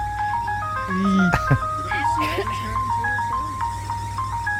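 A tinkling ice cream truck jingle plays a simple melody while people talk over it.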